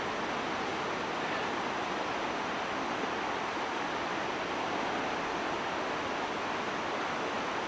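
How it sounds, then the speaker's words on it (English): A river in the Andes near San Martín de los Andes, Argentina, rushes steadily, a continuous broadband roar of flowing water with no voices and no change in level. "You hear the sound of the river."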